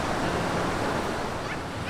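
Cachoeira de São Tomé, a waterfall on a wide river with a large volume of water, gives a steady, dense roar of rushing water, loud and unbroken from start to finish.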